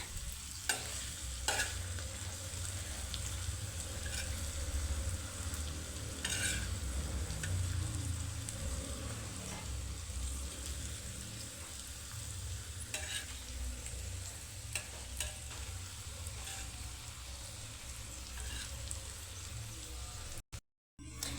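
Stuffing mixture is stirred slowly in a pan over heat, giving a steady scraping and light sizzling texture with soft repeated spatula strokes throughout, no voices.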